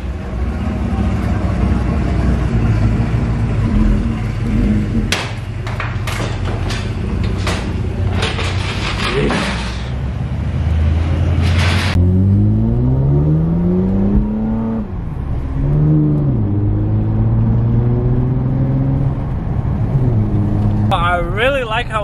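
A Toyota TRD engine fitted with custom quad exhaust tips, loud and close, revving in repeated rising and falling pulls before settling into a deep, rumbling idle, with people talking over it.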